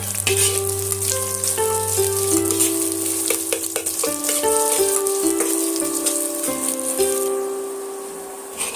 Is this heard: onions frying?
yes